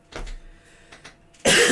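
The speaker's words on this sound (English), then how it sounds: "I'm still coughing, but I'm getting better" A person recovering from walking pneumonia coughs, two brief coughs spaced apart, then a loud harsh burst at the end, close to the microphone and with no talk.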